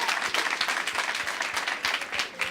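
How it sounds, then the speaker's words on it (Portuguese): Audience applauding a question at a public talk, a brief burst of many hands clapping densely and fairly loudly, close and steady without speech. "Por favor, uma salva de palmas para essa pergunta."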